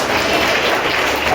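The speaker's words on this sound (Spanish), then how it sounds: "Aleluya, dale un fuerte aplauso al Señor." Church congregation applauding together during a Spanish-language worship service, a dense, steady wash of many hands clapping at close range with no breaks.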